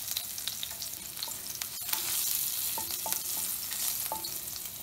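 Cumin, fenugreek seeds, asafoetida and green chilli sizzle steadily in hot oil for pumpkin sabzi, with a constant crackling hiss punctuated by the clinks and scrapes of a stirring spoon.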